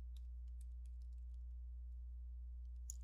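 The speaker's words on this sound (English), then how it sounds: "right here, I'm going to type my last name" Fingers tap lightly and quickly on a computer keyboard in an irregular run of quiet clicks, close by, over a low steady hum.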